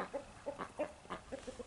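Hens cluck softly in a farmyard that also holds a rooster, with a run of short, rhythmic clucks close by at low volume.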